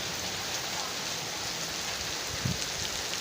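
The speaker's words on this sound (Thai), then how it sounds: "ให้ดู ว่าขณะนี้ฝนตกนะครับ" Steady rain falling outdoors over an underground water bank, a dense continuous hiss of drops on surfaces, with one brief thud partway through and no voices.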